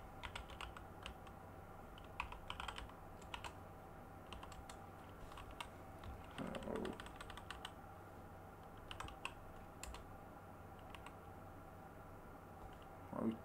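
Computer keyboard typing: a steady run of light clicking keystrokes in quick irregular bursts, close and fairly quiet over a low constant hum.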